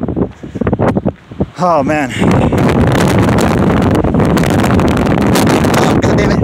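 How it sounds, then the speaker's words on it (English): Strong wind buffets the microphone outdoors, loud low rumbling gusts that swell and roar almost without pause, while a man briefly mutters over the noise near the start. "Oh, god damn it. Shit, it's too windy."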